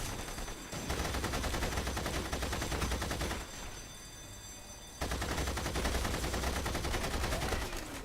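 Gunfire in a Saboteur battle rattles in sustained machine-gun bursts, dense and continuous, briefly dropping off before another long volley resumes.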